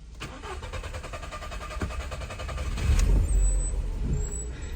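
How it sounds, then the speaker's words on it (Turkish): A Volkswagen Polo with a hesitant, hard-starting fault cranks in a rapid rhythmic churn for about three seconds, then catches and settles into a low idle, heard close with no talking. "Şimdi şöyle bir marş verelim."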